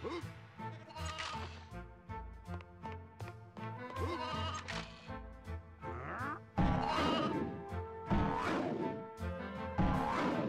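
Sheep bleat in the Toy Story 2 video game over busy game music, a few wavering bleats mixed into the loud, continuous soundtrack.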